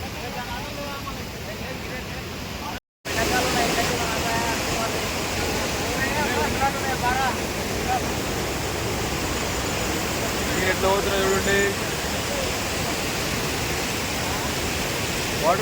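Water from an overflowing village pond spills down in a steady, loud rushing roar that carries on without letup, apart from a brief dropout early on.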